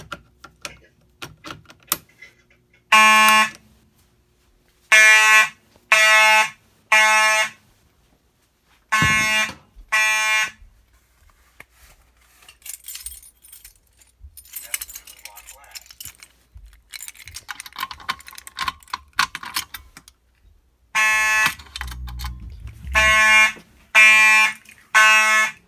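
A smoke detector on a building fire alarm system is set off during a walk test, sounding in repeated groups of loud piercing tonal blasts separated by pauses, with handling noises and brief talk between the bursts.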